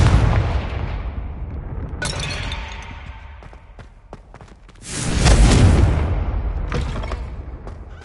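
A Confringo fire spell bursts in the Hogwarts Legacy game as a booming, crackling blast with a sharp onset. A second, louder explosion swells midway and decays into rumbling debris.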